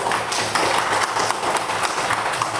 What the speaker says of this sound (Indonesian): Tepuk tangan untuk Rija.